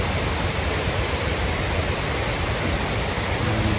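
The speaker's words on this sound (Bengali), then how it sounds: "ঝর্নার পানির শব্দে শোনা যাচ্ছে।" Water falls steadily into the 9/11 Memorial fountain in Manhattan, a loud, continuous broadband rush with no breaks and no talking.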